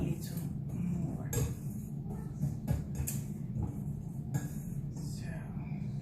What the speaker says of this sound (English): I'm going to swap again to my whisk to mix it in a little more.